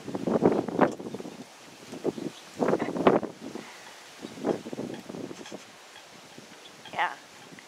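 Wind blows outdoors in gusty bursts that buffet the microphone, mixed with rustling while white wigs are shown outside. Voices talk intermittently under the gusts.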